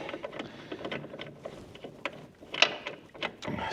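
A Torx brake caliper bolt comes out of a Tesla Model Y Performance, with scattered ratcheting clicks, metallic taps and handling noises, moderately close and irregular, with no talk.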